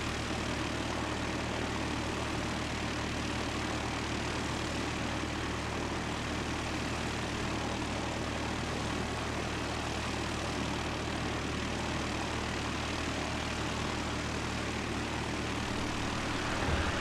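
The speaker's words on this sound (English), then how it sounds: "With NZ536 heading off to Auckland, it's just taxiing down the holding point." Air New Zealand flight NZ536 taxiing to the holding point at Christchurch Airport, a steady, continuous engine roar and broadband rumble held at an even level throughout, with no talk.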